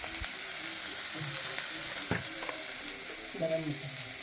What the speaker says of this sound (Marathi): टोमॅटो चांगलं ढवळून घ्यायचं